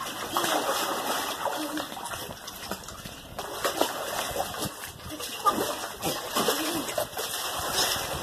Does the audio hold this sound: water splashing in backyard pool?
yes